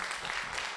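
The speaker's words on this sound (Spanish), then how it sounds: "Vamos a darle la bienvenida con un aplauso" Congregation applause at a church service welcoming a guest preacher, a dense steady wash of clapping filling the whole moment without a break or voice.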